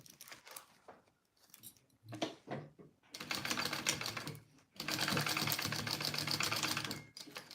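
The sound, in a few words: sewing machine basting fabric for a Joey Pouch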